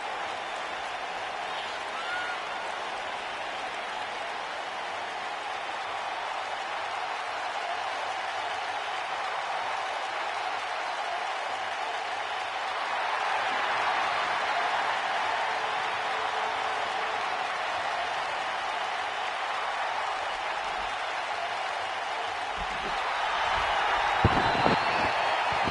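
A large arena crowd at a televised wrestling show roars and applauds steadily, a distant wash of noise that swells about halfway through and rises again near the end, no one speaking over it.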